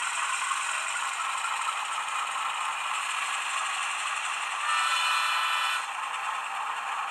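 DCC model train locomotive sound module notching up as the loco creeps along, a steady rattling diesel-style engine hum with a brief rise in intensity near the end, fairly quiet and without speech.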